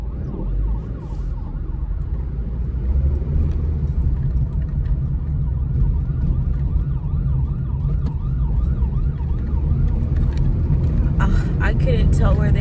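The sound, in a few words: ambulance siren passing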